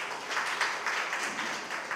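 Steady, moderately loud applause from an audience at a pattimandram speech event, a dense wash of clapping that continues throughout without pause.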